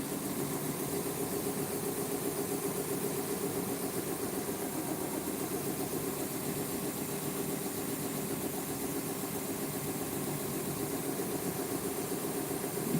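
A knife-sharpening belt grinder runs at low speed, around 700 to 800 RPM, giving a steady, fairly quiet mechanical hum with a faint vibration for the whole stretch, no voices.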